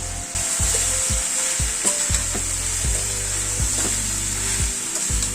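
Soybean chunks fry in a pan over a medium flame with turmeric, salt and Kashmiri red chili powder, sizzling steadily under repeated close knocks and scrapes of a spatula as they are stirred.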